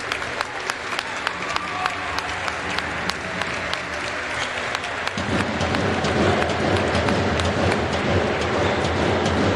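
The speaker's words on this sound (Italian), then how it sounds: "Ora si rialza l'atleta col numero 10 tra gli applausi della palestra Zizzi." Applause fills a volleyball sports hall as a Serie A Gold player, number 10, gets back up, a steady crowd clapping that swells louder partway through, with faint voices in the background.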